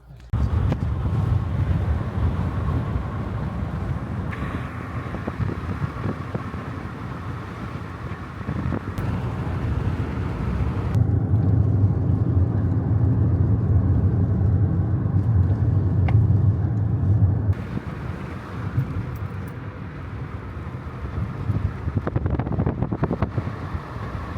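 A car drives toward the mountains on the way to Cairngorms National Park in Scotland, giving a steady, loud low engine and road rumble with wind noise throughout, growing heavier and smoother in the middle stretch.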